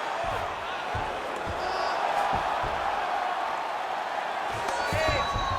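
A virtual arena crowd in the UFC 5 fighting game roars and applauds through a grappling exchange, a steady wash of cheers and whoops under the commentary.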